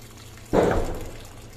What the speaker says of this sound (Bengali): এবার গরম পানি দিয়ে দিব